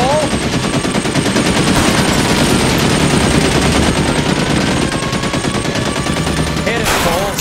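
Rapid automatic gunfire from the L.A. Noire video game, set during a police car chase, rattles loudly and continuously throughout, with brief sweeping tones at the start and end.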